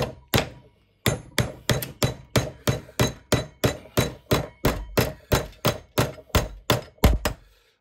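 Heavy hammer blows strike metal during construction of a fairground high striker, about twenty sharp, evenly spaced thumps in a steady rhythm after a single opening hit and a pause, loud and close with no talking.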